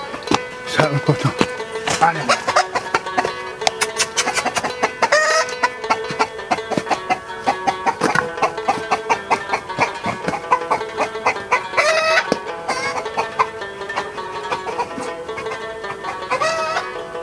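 Chickens cluck and a rooster crows in a farmyard, with busy overlapping poultry calls running throughout alongside people talking.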